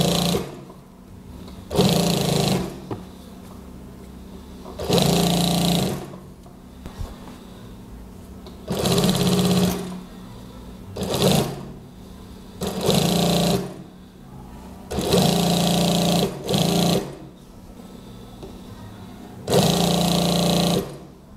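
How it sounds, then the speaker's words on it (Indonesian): A sewing machine stitches fabric for a gamis cardigan in repeated bursts of rapid, even whirring, about two seconds each with short pauses between, loud and close and free of talk. "jahit seperti biasa"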